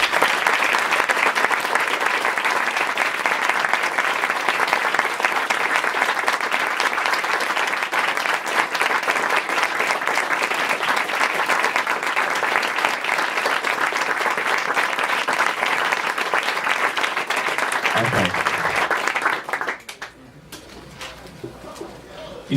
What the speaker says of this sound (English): Feel that while you clap.